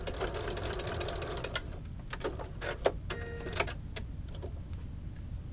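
A sewing machine back-stitches ribbon in place on a handmade holiday acorn garland, its motor buzzing steadily with a rapid mechanical hum and a few small clicks, close and unaccompanied.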